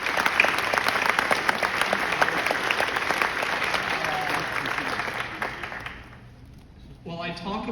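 Applause from a high school graduation audience, a dense, steady wash of many hands clapping for about six seconds before fading out, followed by a brief quieter stretch with a voice starting up.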